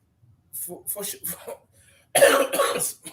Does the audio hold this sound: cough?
yes